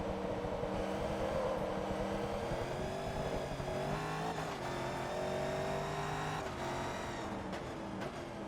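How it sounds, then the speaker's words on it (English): A Corvette engine in the racing game Forza Motorsport 2 bounces off its rev limiter, a loud sustained buzzing drone with rapid stuttering cuts and shifting pitch, heard alone without talk. "When the car hits the rev limiter, it's a bit like Porky Pig trying to speak."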